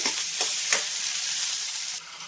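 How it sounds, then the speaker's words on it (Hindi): Finely chopped onion fries with cumin in oil in a pan, a bright continuous sizzle close up, with a few soft stirring scrapes early on before the hiss settles slightly quieter. "हाफ टेबल स्पून जीरा डालेंगे। 1 बारीक कटा हुआ प्याज। अब हम इसे थोड़ी देर तक भूनेंगे।"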